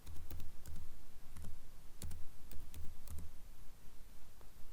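Typing on a computer keyboard while searching the Windows 10 control panel, a handful of light, close key clicks in irregular clusters over a steady background hiss, with no voices.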